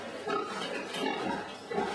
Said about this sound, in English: These pigs here have just given birth.